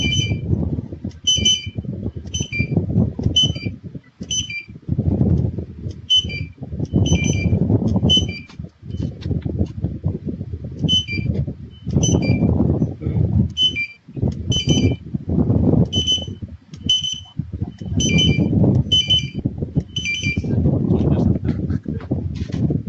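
Repeated short electronic beeps from a barcode scanner being configured, sounding in quick clusters of two to four tones over roughly twenty seconds, above steady low background rumble and handling noise in a store setting.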